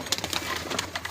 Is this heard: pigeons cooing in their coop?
yes